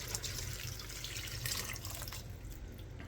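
Water pours steadily from a kitchen sink tap, a constant close splashing rush with no voices, easing slightly toward the end.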